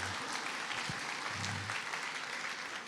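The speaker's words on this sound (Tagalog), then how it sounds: "Ayan, palakpak ulit." An audience claps again after a standing ovation, a full crowd's applause filling the space at close range, with a couple of low thumps mixed into the even patter.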